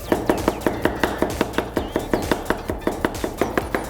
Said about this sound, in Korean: 양파를좀 네, 썰어 놓으시고 감자 감자는 너무 얇게 썰면은 지실 게 없으니까 너무 얇지 않게